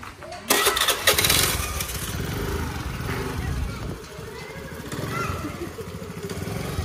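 Scooter engine starting after sitting unused for seven months, a sudden sputtering catch followed by uneven running and idling nearby, with people talking over it.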